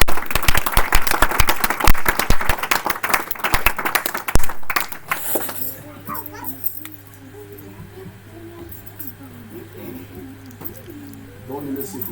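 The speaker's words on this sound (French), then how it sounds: "Acclamez quand même pour Jésus" Church congregation applauding for Jesus during a French-language service, dense clapping and cheering for the first five seconds, then fading into quieter room sound with a sustained low hum and faint voices.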